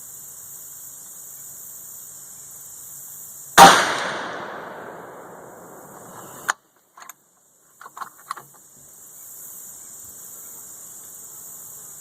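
A single loud, sharp report from a .450 Bushmaster rifle loaded with Winchester 296 powder and 225-grain FTX bullets, with a quickly fading tail. A few short mechanical clicks and clacks follow over a quiet background.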